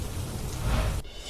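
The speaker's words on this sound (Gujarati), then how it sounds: "બનાસકાંઠાના દિયોદર પંથકમાં ધોધમાર વરસાદ।" Steady heavy downpour in Deodar, Banaskantha, a dense, loud hiss of rain pounding surfaces with continuous low rumble, briefly thinning near the end.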